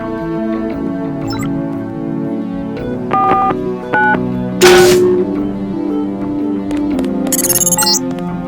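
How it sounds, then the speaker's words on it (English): In the game Deus Ex, a keypad code is entered as a series of short, clear beep tones, one per key press, over steady background music. "then type the code into the keypad"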